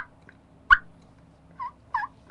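Wild turkey making soft, quiet calls in the woods at sunrise: a sharp short note, then a few brief muffled yelps spaced apart, faint and somewhat distant over a low background hum.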